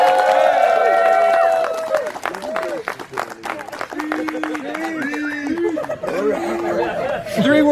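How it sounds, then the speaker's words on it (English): At a ranger ceremony, a crowd claps for Alistair over busy chatter. The applause starts loud and close, then thins into scattered claps as talk continues. "give a round of applause for Alistair"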